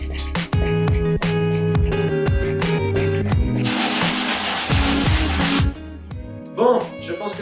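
Hand sanding of surface rust on a Volkswagen Golf GTI car body during restoration, giving steady close rubbing strokes with a brief harsher, brighter scrubbing patch partway through.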